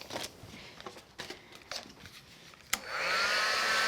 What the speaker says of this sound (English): And let me grab my heat tool.